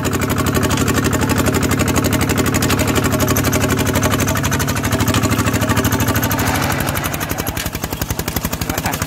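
A vehicle with a ZT155 engine on an NT16 frame, driven in second gear, with a loud, close, pulsing engine chug that keeps a fast, even beat and eases slightly near the end.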